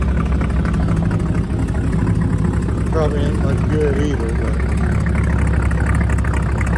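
A truck engine idles with a steady low rumble at close range while someone talks over it throughout.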